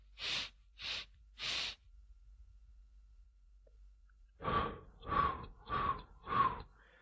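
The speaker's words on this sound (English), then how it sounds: "I'm breathing in through my nose," Slow, deep breaths taken in through the nose and let out through the mouth: three short airy inhales, a quiet pause, then four longer audible exhales, close and alone.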